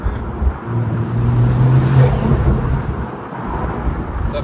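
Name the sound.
sports car engine, half Bugatti Chiron, driving in Monaco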